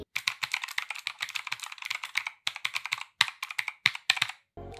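Rapid, steady keystrokes on a budget mechanical gaming keyboard, close and crisp, in quick bursts with brief pauses and no talking.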